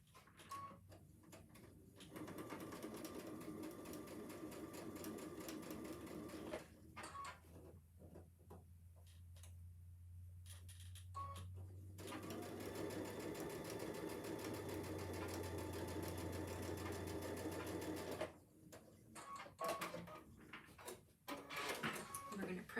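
A domestic sewing machine stitches placemat pieces together in a steady, humming run through the middle, with someone speaking before and after the stitching.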